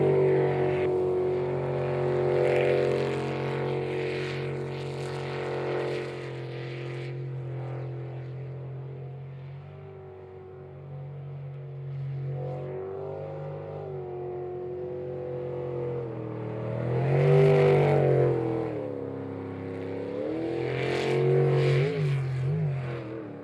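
Sprint race boats with engines over 1,600 horsepower roaring around a water racetrack, a loud sustained engine drone that swells and dips as the boats rise in pitch, accelerate and pass through quick turns.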